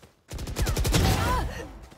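Rapid bursts of automatic gunfire in Valorant, a fast rattling volley that fills most of the moment, loud and close.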